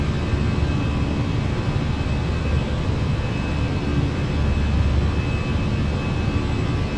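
Steady broadband roar of Airbus A319 jet engines in the Fenix flight simulator game, a continuous even rumble with hiss held at constant loudness throughout, no speech.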